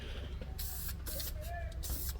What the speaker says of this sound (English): Now I've got some rattle can, spray can paint, flat black